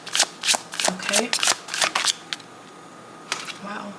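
Tarot cards are shuffled in quick, crisp riffling bursts close by, with a pause and then a few more snaps.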